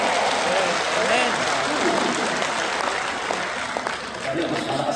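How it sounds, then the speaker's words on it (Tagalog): Church congregation clapping during a homily, a sustained wash of applause filling the room at steady volume, with voices mixed in underneath. "mas malakas ang palakpak"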